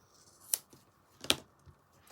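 Two quiet, crisp snips of scissors trimming a very sticky glue sponge used for die cutting, evenly spaced under a second apart in a near-silent room.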